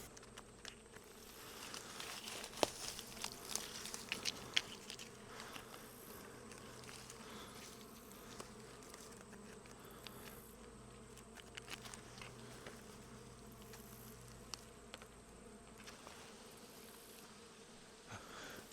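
Honeybees buzz around a beehive, a steady faint hum with individual bees passing close, some soft patters and clicks in the background, quiet and continuous.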